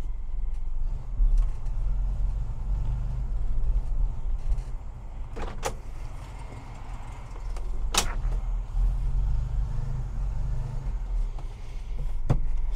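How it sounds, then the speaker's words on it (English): A 1991 Moskvitch IZH 412 sedan idles steadily with a low, even engine rumble, still warming to operating temperature, with a couple of brief sharp clicks or knocks over the hum. "It idles beautifully, still getting to the operating temperature."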